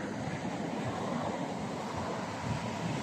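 Rough seawater at a saltwater fishing spot on a blustery morning, waves washing and surging continuously with steady wind buffeting the microphone, a dense unbroken roar with no voices.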